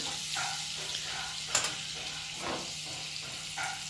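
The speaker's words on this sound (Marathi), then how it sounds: "मी असं मेल्ट करून घेतलं आहे त्याच्यामध्ये पूर्ण हे बघा गरम होत आलं आहे आपलं बटर" Butter melting and heating in a pan gives off a soft, continuous sizzle with faint crackles and an occasional light utensil tap, quiet and close.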